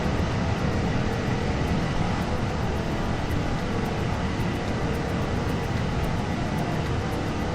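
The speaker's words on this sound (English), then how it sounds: "And Darren, we are flying the good old Global Airlines A380" Airbus A380 airliner of Global Airlines in flight in Microsoft Flight Simulator, a steady, loud broadband engine and wind roar running unbroken throughout with no voices.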